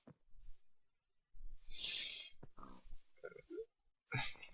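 Pigs in Minecraft Feed the Beast giving several short grunts and oinks in bursts, fairly faint and separated by silence.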